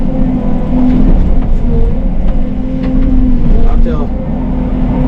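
Steady low rumble of a 40-ton haul truck's diesel engine running nearby at a brush-clearing and pond-building site, continuous and loud with slight revving throughout.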